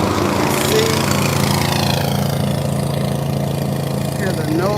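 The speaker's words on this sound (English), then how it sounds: "see, hear the noise from the lawnmower" A lawn mower cutting grass near a playground gives off a steady engine drone, continuous and moderately loud, heard from outdoors during a walk with some background voices.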